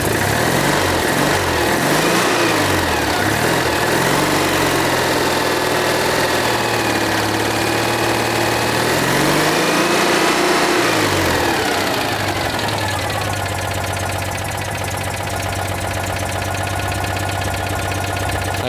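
A Citroën 2CV's small rebuilt engine idles close by with an uneven, lumpy rhythm, its pitch wavering before settling into a steadier, slightly lower hum.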